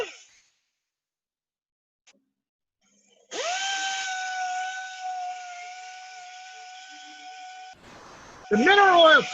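A wood lathe spins a three-footed wooden bowl being sanded. After near silence, a steady, moderately loud whine holds for several seconds, then cuts off and returns briefly with a wavering pitch.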